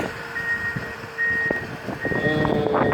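A PistenBully snow groomer reverses with regular high-pitched beeps repeating over a rumbling engine and wind, with occasional clunks from machinery, in Villard-de-Lans.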